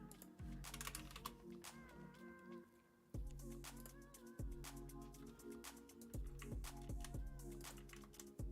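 Someone types on a computer keyboard in a steady stream of quick, crisp key clicks and occasional heavier strokes, close and fairly quiet, with no voice over it.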